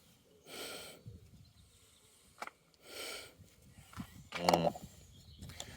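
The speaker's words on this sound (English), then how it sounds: "Let's have a sniff." Several close, deliberate sniffs of breath through the nose, separated by pauses, with faint clicks and handling noises in between, smelling old petrol in a Vauxhall Corsa B.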